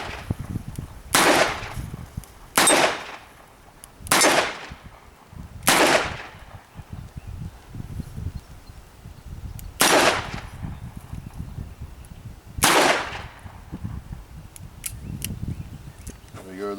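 A Smith & Wesson 686 Plus revolver fires .38 rounds double action at a target, six sharp, loud shots spaced irregularly over several seconds, each cracking out and decaying quickly over low background noise.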